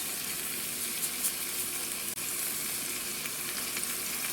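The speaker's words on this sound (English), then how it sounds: "Okay, so we're giving this a nice good stir." Guyanese egg curry with eddoes being stirred in a pot, a continuous soft sizzle and bubbling with light scraping and a single sharp click partway through, no voices.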